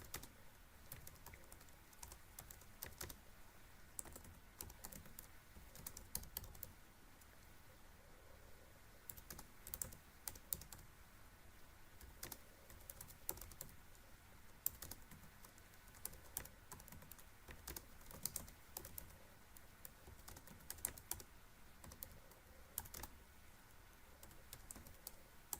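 Ticker codes are typed on a computer keyboard in quiet, irregular bursts of key taps that continue steadily throughout with short pauses between runs.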